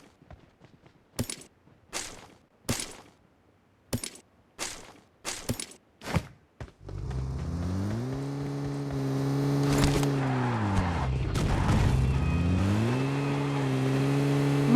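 In the PUBG video game, a few sharp footsteps and impacts come first, then a car engine starts up and drives steadily. The engine pitch rises and dips as it accelerates and slows, loud and continuous, with no talk.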